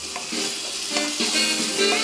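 Kwetiau goreng (fried flat rice noodles) stir-frying in a pan: a steady close sizzle broken by repeated scraping and tossing strokes, with no talking.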